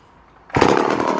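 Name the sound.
Homelite C51 vintage chainsaw starting and running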